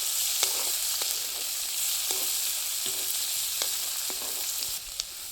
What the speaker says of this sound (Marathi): आता ह्याच्यामध्ये आपल्याला हा कांदा टाकून घ्यायचा बारीक चिरलेला आणि आता हे सगळं आपल्याला असं छान हलवून घ्यायचे